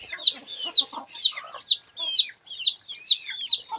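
Chickens cluck close by in a quick, steady series of short high-pitched calls, about two per second, with softer clucks underneath.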